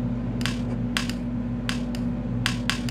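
Several sharp plastic puck strikes on a virtual air hockey table in a VR game, spaced in quick pairs and singles over a steady low hum, with no talk.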